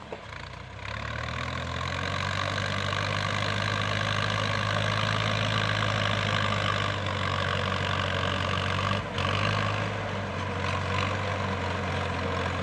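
An old Ford 6610 tractor engine idles steadily with a low, rumbling drone and a persistent hum, loud and close, with only a slight dip midway.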